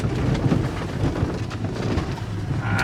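Heavy monsoon rain pours steadily and loudly, with a deep rumble of thunder rolling underneath throughout.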